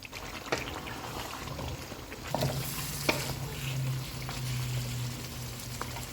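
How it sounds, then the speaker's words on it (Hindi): Chicken sizzles and frys in oil in a karahi pan over a full flame, with steady close crackling and scraping stir strokes throughout, getting somewhat louder partway through. "चूल्हे को फुल कर देते हैं और इसे ऑयल अलग होने तक भूनेंगे"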